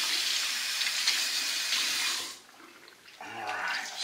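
Water runs steadily from a tap while a tanned raccoon tail is rinsed, a continuous hissing splash that cuts off midway, then a shorter burst of running water returns near the end.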